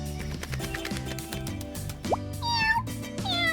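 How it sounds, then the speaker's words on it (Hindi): Cartoon little cat up in a tree meowing, a few short high mewing calls rising over a busy musical background score, heard near the end of the passage without talking. "ओह, नन्ही बिल्ली दरख्त पर है।"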